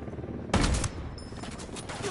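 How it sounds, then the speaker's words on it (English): Sniper gunfire in the video game Ghost Recon Wildlands: one loud, sharp burst of shots stands out against a steady background of game noise, followed by fainter crackling and scattered reports. "I got a sniper shooting at me."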